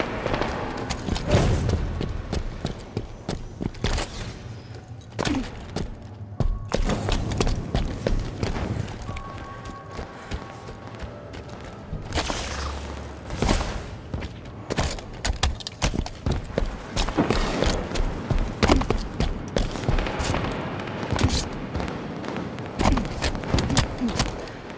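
Gunfire in a Halo video game comes as repeated sharp bursts and rattling volleys amid game effects and explosions, loud and dense throughout with short voice lines from the game.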